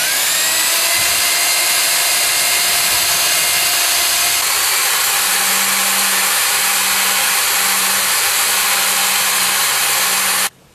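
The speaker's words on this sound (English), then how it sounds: "I've got this little brake cylinder hone that works well for cleaning out these types of things" A brake cylinder hone spun by a power drill cleans out a body mount hole during a tire carrier installation, giving a loud continuous whine that shifts to a lower, pulsing grind before stopping abruptly.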